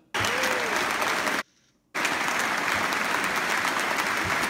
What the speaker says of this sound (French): Ta patronne, elle l'applaudit